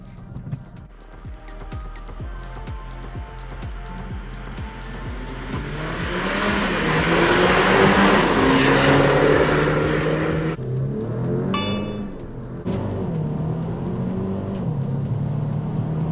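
Racing cars, a Mercedes-Benz CLA and an Alfa Romeo Giulia, speed along a track. Loud engine roar climbs and shifts pitch as they accelerate, peaking near the middle, with brief high squeals toward the end and no talking.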